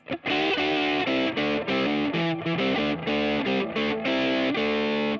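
A Gibson Memphis ES-355 with Bigsby plays loud, distorted electric guitar chords at full volume in a steady series of sustained stabs, close, with no voices.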